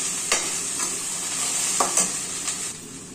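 Green chillies and grated coconut stirred and fried in a pan give a steady sizzle, with a few sharp scraping strokes of the spoon against the pan breaking through at irregular moments.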